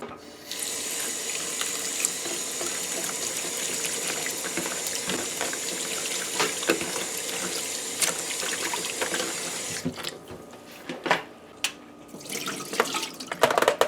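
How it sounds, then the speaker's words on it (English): Raw shrimp being washed with lime under running water from a kitchen tap, a steady close splashing stream for about ten seconds that stops, followed by a few scattered clinks and drips. "We're going to wash our shrimp first. And we're going to wash it with some lime."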